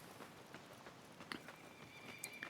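A horse in the video game Assassin's Creed Mirage, quiet hoof clip-clops and faint snorting or whinnying mixed with soft ambient game sounds and a thin chime near the end.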